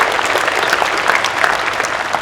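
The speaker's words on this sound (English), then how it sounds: "So with a round of applause." A large audience at the Port of Seattle's State of the Port 2024 event applauds the serving staff, chefs and event crew with a dense, steady, loud wash of clapping that holds evenly throughout.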